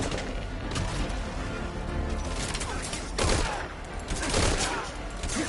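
Rapid bursts of gunfire crackle through a firefight in Metal Gear Solid V Ground Zeroes, dense overlapping shots with louder volleys near the middle and end, a steady noisy backdrop between them.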